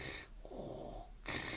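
Voice imitating Darth Vader's mechanical breathing from Star Wars: a hissing inhale, a pause, then a louder rasping exhale, close and alone.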